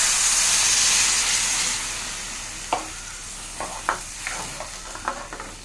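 A loud burst of hissing sizzle as water hits a hot pan, fading over a couple of seconds, followed by scattered soft clicks and bubbling.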